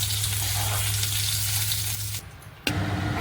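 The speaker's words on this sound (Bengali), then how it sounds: "সব ড্রাই ফ্রুটগুলো একটুখানি ভেজে নিলাম" Cashews and raisins fry briefly in a pan for sabudana payesh, a steady dense hiss that cuts out for a moment before resuming.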